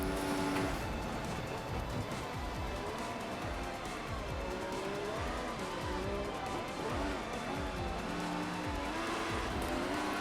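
Race cars in the F1 2014 video game at the Istanbul circuit, with continuous engine whine shifting in pitch and squealing tires, dense and loud throughout with commentary-style talk underneath.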